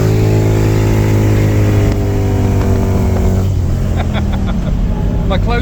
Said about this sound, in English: We're on the brakes, we're doing a burnout.